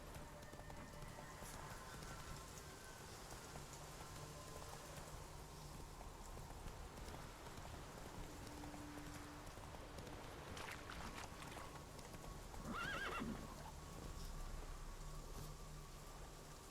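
A horse in the Witcher 3 video game gallops with steady, quiet clip-clop hoofbeats beneath faint ambient game sound, and a brief whinny-like burst rises near the end.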